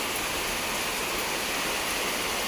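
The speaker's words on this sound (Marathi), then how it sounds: "तर खतरनाक पाऊस चालू झालाय" Heavy, steady monsoon rain in Konkan pours down in a dense, continuous hiss, loud and close with no pauses, like a downpour drumming on everything around.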